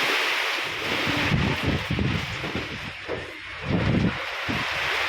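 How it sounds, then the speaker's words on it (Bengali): Strong gusting wind from Cyclone Remal roars in a loud, broad rush that swells and eases in waves, buffeting the microphone with no talk. "পাঁচ দিয়ে এত পরিমাণ বাতাস হচ্ছে"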